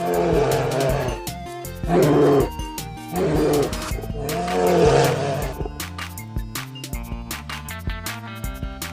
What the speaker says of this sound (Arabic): دب. دب.